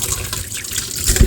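Water runs into a kitchen sink while a rusty stove burner is washed under the tap. The splashing is brief and close, with no voices.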